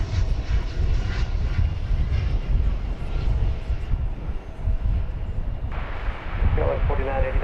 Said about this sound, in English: We're going to pull out and watch American Flight 1271 coming in from Madison